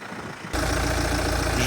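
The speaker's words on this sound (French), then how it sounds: "Je vous laisse écouter le son du moteur, il est vraiment nickel." A BMW X1 M Sport 2.0d with the 150 hp diesel idles close by. The engine note jumps louder after a brief quieter start, then holds a steady, even rumble with no voices over it.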